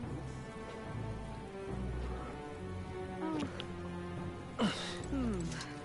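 Rain falls in the video game Metaphor: ReFantazio, a steady, moderately loud patter of drops with faint rumbling underneath. Brief swooping tonal game effects cut in partway through, and no talk is heard.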